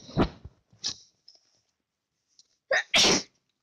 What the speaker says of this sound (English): But I got kind of a sneeze.